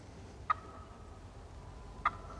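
Wild turkey giving two sharp, short putt alarm calls about a second and a half apart, faint and at a distance over quiet outdoor background noise.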